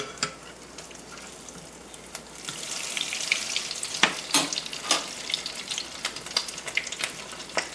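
Low-carb bacon donuts fry in a pan with a steady crackling sizzle. Sharp spatters and scraping stirs break through, growing busier and louder after the first couple of seconds.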